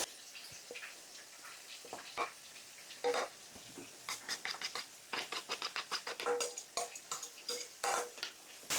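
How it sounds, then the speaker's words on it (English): A spoon stirring finely grated Parmesan cheese into pasta in a pot gives quick, wet, squelching taps and scrapes in uneven bursts, close and fairly quiet, with no talk. "I have 1 cup of grated, finely grated Parmesan cheese. Stir that in."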